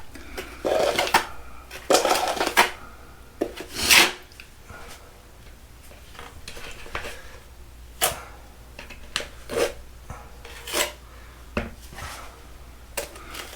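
Tile mortar is spread with a trowel in a shower, making intermittent scraping and scooping strokes with clinks and pauses between them, close and fairly quiet.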